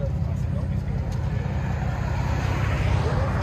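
A 2015 Chrysler 200 S V6 fitted with dual exhaust and a Vibrant bottle resonator idles with a smooth, steady low rumble, close and continuous, with no obvious revving.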